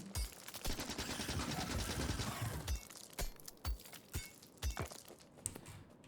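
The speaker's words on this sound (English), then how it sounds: "The SMG is far better, as you can probably see." SMG gunfire in the video game Factorio, modded Warptorio2 run: a dense, rapid rattling burst of fire for a couple of seconds, then scattered short bursts and single cracks, fairly quiet and without talk.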